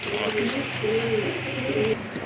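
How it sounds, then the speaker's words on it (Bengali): Two pigeons coo together close by in soft, repeated rolling phrases, a steady pair of low warbling calls running throughout with faint background noise. "খুব সুন্দর এক জোড়া কবুতর"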